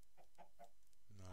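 Short clucks from a chicken in Minecraft, three quick evenly spaced calls near the start, then a brief burst of other game noise at the end, fairly quiet overall.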